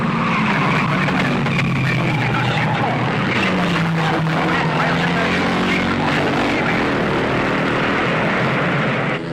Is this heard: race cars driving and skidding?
yes